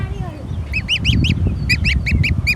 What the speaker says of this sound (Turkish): bir sürü küçük kaz yavrumuz oldu